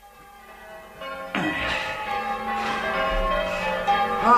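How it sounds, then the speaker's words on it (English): Church bells ring steadily in a drama scene, several bells clanging in overlapping peals that grow fuller after a quieter start, with no talk over them. "we shall continue to ring the bells, my dear, for another few minutes or so"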